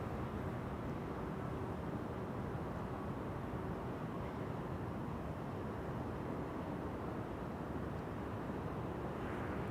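A Vueling airliner at Amsterdam Schiphol Airport gives off a steady, distant broadband roar of jet engines that holds evenly for about ten seconds, with no voices over it.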